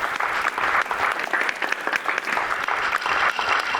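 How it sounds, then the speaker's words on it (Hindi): A courtroom audience applauds steadily, with dense, even clapping from a crowd throughout at a fairly close, moderate level. "ये लोग मेरे लिए नहीं ताली बजा रहे हैं, आपके हुनर की दाद दे रहे हैं।"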